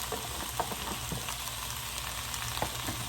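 Soaked, rinsed beans hit a pan of frying onion and garlic, giving a soft, steady sizzle with scattered faint pops and crackles, quiet and unbroken by any voice.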